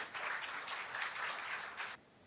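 Audience applause for a guest being felicitated at a B.Tech induction program, an even burst of clapping that holds steady for about two seconds and then cuts off abruptly into near silence.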